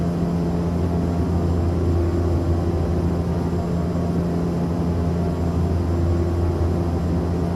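The Aeroworks DC-3's engines in the X-Plane 11 flight simulator give a steady, loud droning rumble with a constant low hum that runs unchanged throughout, with no voices.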